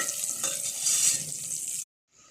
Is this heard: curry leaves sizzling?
yes